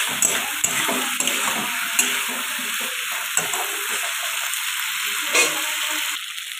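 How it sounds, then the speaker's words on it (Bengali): Pointed gourd and potato fry in spiced oil in a wok with a steady close sizzle, broken by a few scraping stirs and clinks of the spatula, with no talking. "দিয়ে দিয়েছি পটল আলু, দিয়ে আমি মশলার সাথে ভালো করে কষিয়ে নেব।"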